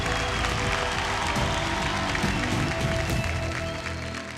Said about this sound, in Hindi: एक बार जोरदार तालियां हो जाए शिवांशु एंड श्वेता के लिए